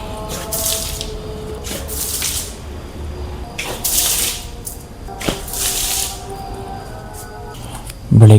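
Water splashes and drips onto a swept floor in bursts, loud and near, several pours in a row with quieter gaps between them.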